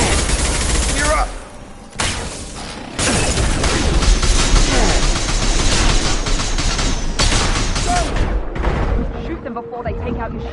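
Dense bursts of rapid gunfire in the video game Mass Effect 2, loud and close, with several fusillades crowding together, a brief lull near the start and a dip toward the end.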